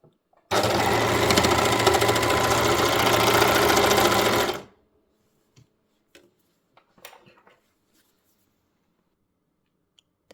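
A sewing machine stitches a fabric cover for a yoga foam block in one continuous loud run of about four seconds, then stops, leaving only a few faint clicks and handling sounds.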